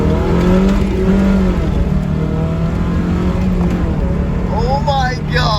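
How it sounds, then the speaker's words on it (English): A Toyota MR2 pulls hard in first gear, its engine note climbing steadily and loudly from close inside the car, with rising harmonics near the end as revs peak; a voice speaks briefly over it. "All right, let's see how good we can do. First gear pull."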